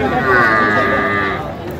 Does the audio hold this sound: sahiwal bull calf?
yes